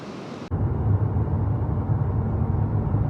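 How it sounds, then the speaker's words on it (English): A steady, broad roar of Oregon Coast surf rolls on continuously after a brief cut, low and washing, with no voices. "Just listening to that ocean sound there."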